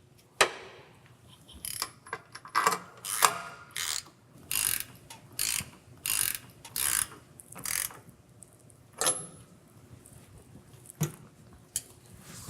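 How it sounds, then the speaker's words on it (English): A hand wrench ratchets a bolt tight on a truck brake chamber, delivering repeated bursts of quick metallic clicking with short pauses between strokes, close and clear with no talking. "Then tighten the bolt all the way using a hand wrench."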